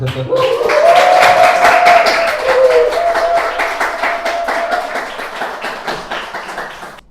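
A church congregation claps and cheers during a Sunday worship service as a deacon comes up to preach. Rhythmic group clapping runs throughout, with a sustained vocal tone and shouts over it at the start, then steady clapping that fades out.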